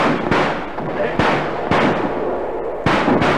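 Mortar fire and battle effects from a wartime radio drama, heard as sharp, booming blasts at irregular intervals over a dense, continuous roar of combat noise.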